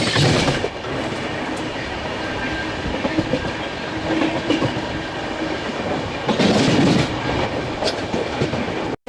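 Tamil Nadu Sampark Kranti SF Express running through Sirpur Kagaznagar station without stopping, a steady loud rumble with rhythmic clickety-clack of wheels over rail joints, close and continuous.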